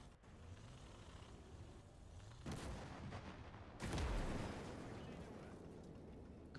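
In the Call to Arms: Gates of Hell Ostfront video game, a tank shell hits an ammo cache and sets off a loud explosion, two booming blasts over steady battle rumble, the second heavier and lingering.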